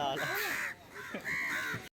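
Crows caw near a temple in Mumbai, two loud harsh calls close by with a brief gap between them.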